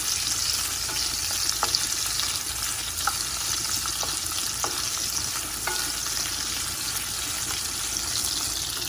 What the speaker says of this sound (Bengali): পেঁয়াজ ভাজার সাথে সাথে চিকেনটাও হালকা ভাজা যাবে